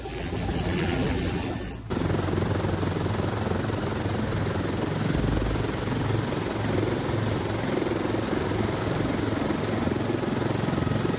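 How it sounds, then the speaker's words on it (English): An agricultural helicopter comes in to land, its rotor and turbine roar loud and constant, with a brief shift in tone early on before the steady, close thudding drone continues to the end. "You can tell this AG pilot has mastered their craft, so smooth and precise, it's like the helicopter just glided in."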